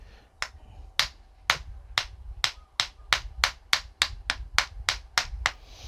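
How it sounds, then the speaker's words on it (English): A hammer drives fret wires into an already glued guitar fretboard during a refret: about fourteen sharp, evenly spaced taps, close and fairly quiet, with nothing between them. "it's already been glued, so it's a bit hard to hammer them down"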